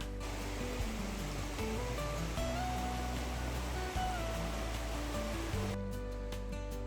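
Loud rushing water from a creek below a ridge along a mountain trail to Truchas Lakes, a steady, powerful roar of broadband noise that fills the whole stretch without pause.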